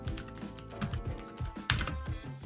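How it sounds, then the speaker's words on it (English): Fingers type on a computer keyboard in quick, uneven bursts of close, crisp key clicks, with short pauses between runs and no talking. "And let's type that in, right?"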